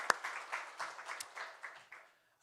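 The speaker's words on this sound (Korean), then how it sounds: "우리 하나님께 영광의 박수 올려드리겠습니다" Brief, moderate applause from a church congregation at a Sunday worship service, starting with a sharp clap and then a scattered patter of hands that thins out and stops.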